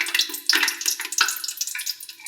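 Dried red chillies fry in hot oil in a pot, giving a close, bright crackling sizzle with irregular pops throughout.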